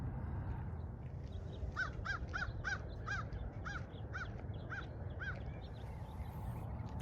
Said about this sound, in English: Those silly old crows keep calling my name.